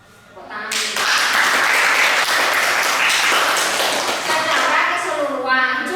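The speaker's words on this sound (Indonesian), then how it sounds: "Tepuk tangan." A group of people clap together during a school practice session on forward rolls, the applause starting suddenly and staying loud and dense for several seconds before thinning out.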